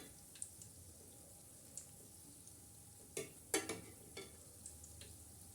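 Balushahi being turned over in a shallow pan of hot oil, giving a faint steady sizzle with a few sharp scraping and tapping bursts from the flipping midway.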